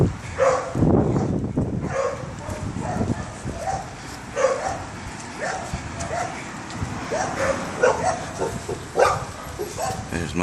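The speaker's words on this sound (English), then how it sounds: "Got the big dog here." A big dog barks repeatedly on a neighborhood walk in Mexico, with short close bow-wow barks and yips recurring throughout, under a voice talking.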